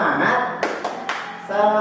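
A classroom group claps three times in a quick rhythm as part of an energetic cheer, with voices before and after the claps.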